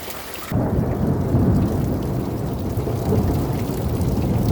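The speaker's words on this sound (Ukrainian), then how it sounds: "Оце градюка прийшов." A hailstorm with rain and thunder over a garden in late May: after a brief quieter start, dense roaring pelting of hail and rain sets in and stays loud and steady, with deep rumbling beneath.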